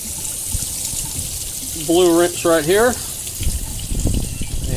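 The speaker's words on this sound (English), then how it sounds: "we're gonna pour some hot water" Hot water pours in a steady, gushing rush, with a short spoken phrase over it partway through.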